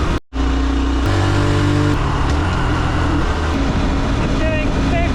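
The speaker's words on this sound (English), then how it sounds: "Can you take a Honda CT125 out onto the main road and ride it there at relatively normal traffic speeds?" Honda CT125 motorcycle riding on a main road at normal traffic speeds, a steady loud engine drone with wind rush and rising revs after a brief dropout near the start.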